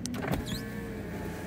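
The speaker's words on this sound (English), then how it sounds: "The electric window's working." Electric window motor in a Toyota MR2, a short close whine as the glass moves, with a brief click at the start and a rising pitched tone fading under steady car hum.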